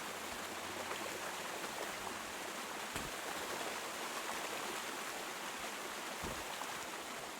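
Steady flowing water in the game Kingdom Come: Deliverance 2, a faint, continuous stream-like rush with a couple of soft low thumps.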